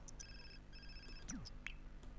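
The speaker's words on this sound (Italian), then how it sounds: "Qui c'è il telefono che squilla." A phone rings in The Sims 4, a short electronic ringtone of repeated tonal chirps under soft game music and ambience, heard alone without talk.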